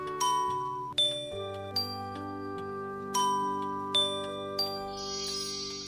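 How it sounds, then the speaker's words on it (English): Several bells ring out in a bright, melodic sequence, repeated chimes sounding over a sustained musical backing, loud and clear with no talking. "firstly, you need to ring the bells"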